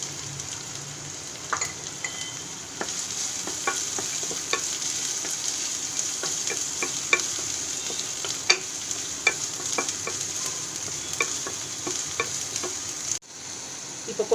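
Onions sauté in a pan with a constant close sizzle dotted by sharp spattering pops and occasional spoon scrapes, then a sudden clack and shift near the end; no one talks.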